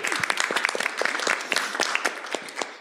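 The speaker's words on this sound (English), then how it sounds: "Give yourselves a round of applause." A room full of people at a community theatre engagement session gives itself a round of applause, with lively, uneven clapping and sharp individual claps standing out close by within a bright crowd texture.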